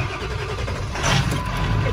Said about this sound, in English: All right, let's get the engine warmed up.